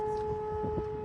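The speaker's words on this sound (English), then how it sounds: "In Kursk, the air raid sirens sound" Air raid sirens wailing in Kursk, a steady two-tone howl held at constant pitch over low background rumble, loud and unbroken through the short stretch.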